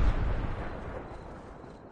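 Grenade blast in a shooter video game, a loud low rumbling boom at the start that decays slowly into a lingering roar over about two seconds, with no talking.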